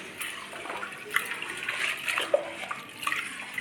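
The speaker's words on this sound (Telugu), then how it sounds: "నీళ్ళు తీసుకొని కడుగుతున్నా" Homemade dal being washed with water, a steady close splashing and swishing of water in a vessel with small droplet clicks, continuous for a few seconds with no talking.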